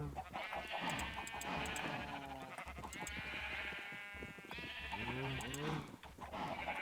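Sheep bleat repeatedly in a farming video game, drawn-out wavering calls rising over a busy bed of game effects and music, with a voice talking throughout.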